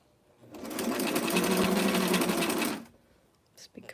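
A sewing machine runs in one rapid, steady burst of stitching for about two seconds on a vintage 90s dress, then stops, followed by a few faint handling clicks.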